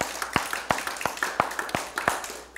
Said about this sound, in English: Give him a hand clap tonight